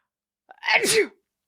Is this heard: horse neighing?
no